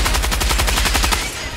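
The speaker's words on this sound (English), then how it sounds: "Dude, what is this heavy machine gun good for?" Heavy machine gun fire in the video game Helldivers 2, a loud, close burst of about a dozen rapid, evenly spaced shots that stops abruptly, with no talking.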